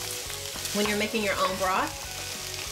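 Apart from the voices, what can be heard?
onions and celery sautéing in a pan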